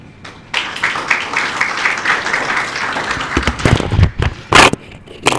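An audience applauds the author at a book launch in Mauritius: dense, steady clapping that starts abruptly, stays close and loud for several seconds, then breaks into a few sharper, louder bursts near the end.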